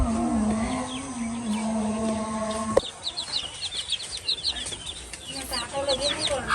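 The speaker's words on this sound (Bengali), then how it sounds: "আর এই ফার্মটা দেখতে পাচ্ছেন মার্শাল্লাহ অনেক মুরগি" Chickens cluck at a village poultry farm, with a steady hum early on, then scattered close clucks and chirps after a sharp knock.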